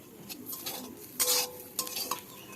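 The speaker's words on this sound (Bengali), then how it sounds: "এখন ওই তেলেই কুড়িয়ে রাখা নারকেলটাকে ভেজে নেব।" Grated coconut frying in oil in a wok, with a metal spatula scraping and stirring in short bursts over a faint sizzle.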